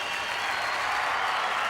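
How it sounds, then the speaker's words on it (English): A brief burst of dense, loud studio audience applause for the male challengers on a 1995 Australian Gladiators episode, a continuous wash of clapping with no talk. "Let's have a big round of applause for Martin and Dominic."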